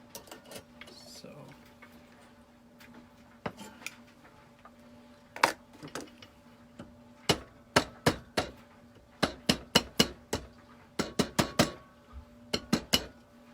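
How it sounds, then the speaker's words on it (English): A hammer strikes a piece of silverware flat for a forktopus sculpture, sharp metallic clinks coming in irregular bursts and quickening into rapid clusters, close and fairly loud over a low steady hum. "we're getting ready to hammer this piece down"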